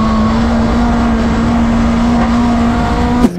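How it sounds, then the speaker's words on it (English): A single-seater race car engine holds a loud, close, steady high-revving drone, then cuts off abruptly with a sharp click just before the end. "this is a proper race car, as you might have noticed. Wow, what a noise!"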